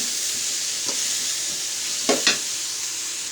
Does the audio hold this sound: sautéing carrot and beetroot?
yes